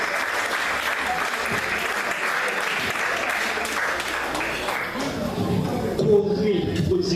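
An audience claps steadily and fairly closely at a cooking course graduation ceremony, the applause continuing throughout while someone speaks over it.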